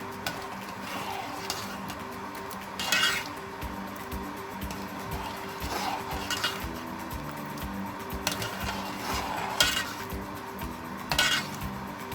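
A Kathiawari cholay mixture thickening in a pot is stirred continuously, giving a steady scraping with louder metal clanks roughly every second or two and no voices.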